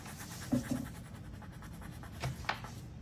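A pencil marks and shades on paper in a soft, close scratching texture, with a few brief louder strokes standing out from a steady faint rasp.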